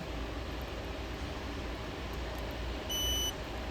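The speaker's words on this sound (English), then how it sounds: "You're going to hear a beep. That's because it's starting to read what kind of firmware it has in your system." A Skybox satellite receiver gives a short electronic beep near the end, a steady tone lasting about a third of a second over constant background hiss while it reads the system firmware.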